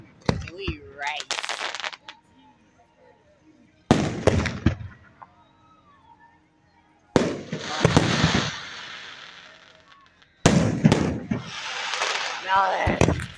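Fireworks go off at Hermiston Raceway in four separate loud bursts of booming and crackling, each lasting a couple of seconds with short quiet gaps between, and a crowd voice briefly audible.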